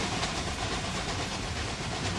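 Freight train crawling slowly along the track in the Railway Empire 2 video game, a steady broadband rumble and hiss with faint rhythmic rolling, continuous and even, with no talk.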